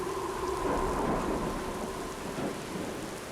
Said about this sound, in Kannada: ಜೊತೆಯಲ್ಲಿ ನಿಧಾನವಾಗಿ ಮಳೆ ಹನಿಗಳು ಕೂಡ ಬೀಳೋಕೆ ಪ್ರಾರಂಭ ಆಗುತ್ತೆ.